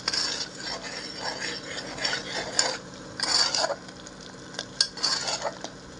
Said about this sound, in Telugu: నూనె బయటకు వచ్చేదాకా వేయించుకోవాలండి